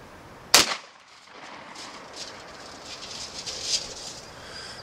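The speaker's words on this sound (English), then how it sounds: "Now I'm going to back up behind the camera, shoot that can." A Winchester Model 1897 shotgun fires a single sharp, loud blast at a can, followed by a short echo tail and quiet outdoor ambience with faint bird calls.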